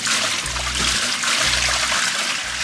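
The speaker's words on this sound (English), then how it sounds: "Just emptied the sink, innit?" Water gurgling and trickling down the drain of an emptied sink aboard a narrowboat, close and continuous with a rhythmic low glugging pulse.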